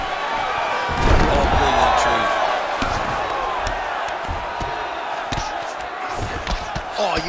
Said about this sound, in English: you can hear the crowd reaction every time he lands another hook